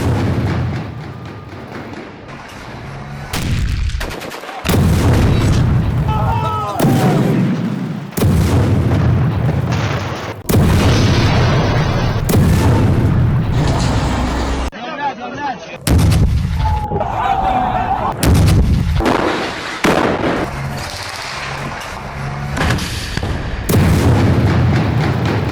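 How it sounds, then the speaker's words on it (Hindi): Heavy explosions from demolition charges blowing up Hamas hideouts boom repeatedly in loud, rumbling blasts, separated by abrupt cuts, with no talking. "हमास के ठिकानों को बारूद से उड़ाया"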